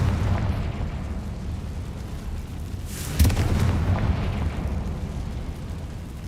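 A Confringo spell in Hogwarts Legacy bursts into a sudden loud explosion partway through, rising out of a rumbling, roaring backdrop that fades off afterward.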